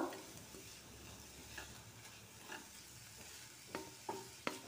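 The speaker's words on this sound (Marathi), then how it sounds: "तर मिक्स करून घेऊया." A drumstick-flower vegetable dish is stirred in a pan, with a soft continuous sizzle and a few scraping clicks of the spoon against the pan toward the end, close and quiet.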